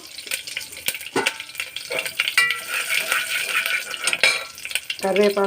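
Curry leaves crackle in hot tempering oil for a South Indian stir-fry, with a busy sizzle broken by sharp clinks and scrapes of a spoon against the pan, close and fairly loud throughout.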